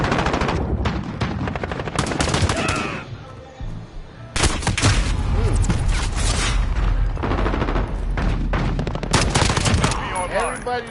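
Rapid bursts of automatic gunfire and weapon fire from a Call of Duty match, including AK rifles with reflex scopes and shotguns, loud and dense with brief lulls, clattering over game sound effects.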